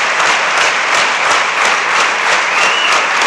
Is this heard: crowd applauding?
yes